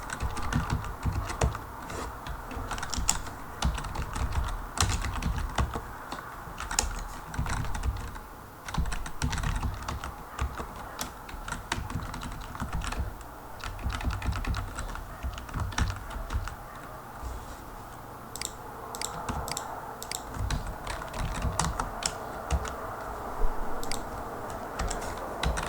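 Steady computer keyboard typing while writing CSS code, a continuous stream of close, crisp key clicks with brief pauses, no voices over it.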